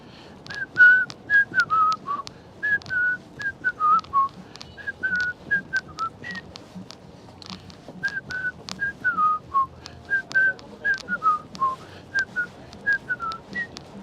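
A person whistles a tune imitating the generic copyright-free music played over livestreams. The short repeated melodic phrases come in a steady rhythm, up close and alone, with faint outdoor city background noise.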